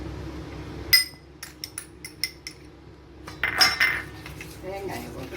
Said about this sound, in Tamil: தேங்காயை போட்டு கிளறிடணும்.